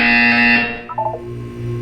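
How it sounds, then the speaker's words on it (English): A loud electronic buzzer in the Portal 2 video game blares with a steady harsh tone, cuts off after about half a second, and gives way to brief chirping blips and a low lingering hum. "You will hear a buzzer."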